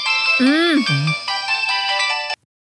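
A phone ringtone plays loud and close, a looping electronic melody mixed with a voice-like tune, cutting off abruptly after about two seconds.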